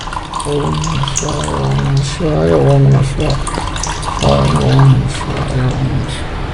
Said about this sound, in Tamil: இப்போ மறுபடியும் தண்ணீர் விட்டு மறுபடியும் ஜல அபிஷேகம் பண்ணணும்